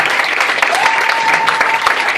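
A church congregation at a French-language Christian mission service breaks into loud, dense applause. The clapping is close and sustained, with a faint voice or cheer mixed into it.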